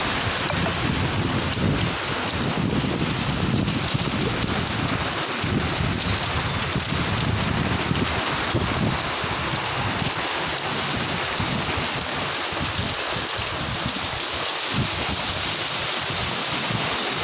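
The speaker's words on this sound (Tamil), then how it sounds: "நல்ல மழை பெய்து கொண்டிருக்கிறது" Heavy rain pours steadily at night in Coimbatore, a dense, continuous hiss of drops hitting surfaces, loud and unbroken with no voices.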